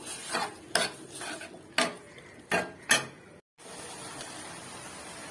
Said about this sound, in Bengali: পাস্তাটা দিয়ে আবার একটু ভালো করে নাড়াচাড়া করে নেবো।